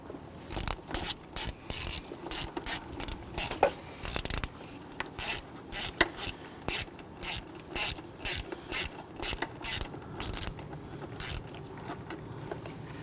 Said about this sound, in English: Using our 10mm 1/4 inch with our swivel and our extension, let's go ahead and loosen and remove these bolts.